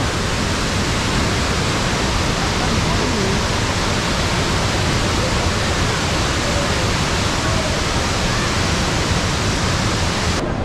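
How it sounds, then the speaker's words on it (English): Steady, dense rush of water pouring at Davis Falls in Pokhara, Nepal, a loud continuous roar that holds unbroken and fills the whole stretch. "from here you can see the water is flowing."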